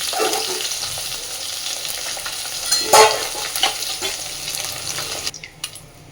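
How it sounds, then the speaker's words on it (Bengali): Bhetki fish bones frying in hot oil in a home kitchen, a steady dense sizzle and crackle throughout, close and fairly loud, with brief clinks of stirring, ending as the sizzle drops away. "এই একইভাবে আমি বাকি সমস্ত কাঁটাগুলোকেও ভেজে নেব।"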